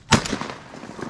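A single shotgun blast fired at a duck during a hunt in a flooded Maryland swamp, a sharp loud report near the start that fades into outdoor ambience.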